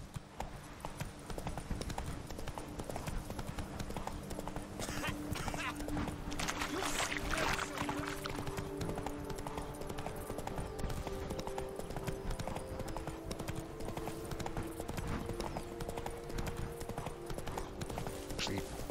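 Horse hooves clip-clopping steadily along a path as Roach, Geralt's horse in The Witcher 3: Blood and Wine, is ridden, a continuous trotting rhythm under game music and ambience, with someone talking over it.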